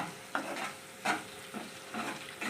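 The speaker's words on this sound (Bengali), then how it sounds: "এটা আমি একটু ভেজে নেব। মশলাটার তেল বেরিয়ে গেছে।" Spice masala frying in oil for Bengali mutton kosha, with chopped onion added, sizzling steadily under several spoon-stirring scrapes at a regular pace, close up and moderately loud with no talk.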